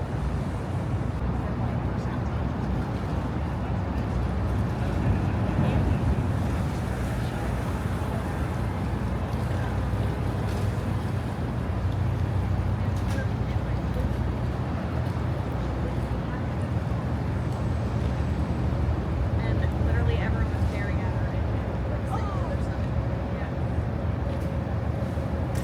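Tour boat pulling up on the Chicago River, a steady low engine rumble with wind and lapping water running continuously, with voices talking over it.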